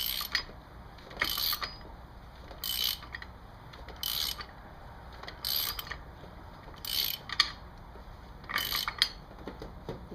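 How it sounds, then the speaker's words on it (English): A ratchet is hand-cranked to spin the clutch basket nut onto a Kawasaki Ninja 1000 in a workshop, giving about eight quick bursts of clicking at a steady rhythm, close and fairly quiet, with no talking. "So we're gonna crank that on by hand at first, and then we'll use a torque wrench"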